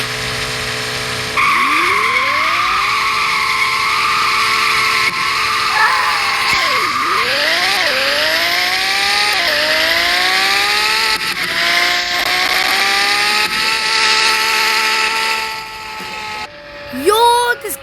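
Engine of a high-revving car climbing repeatedly toward about 9,000 RPM, loud and close, with sweeping pitch rises and drops between revs and a brief burst of other noise at the end.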